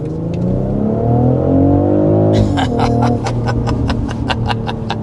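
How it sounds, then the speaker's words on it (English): A 2025 BMW X3 M50 with its B58 engine in sport mode accelerates hard, the exhaust note climbing steadily in pitch, then a quick upshift and renewed pull with a crisp, loud, close-up growl and no voices. "we went into sport mode for that acceleration there to kind of open it up, give you a good sense of the sound"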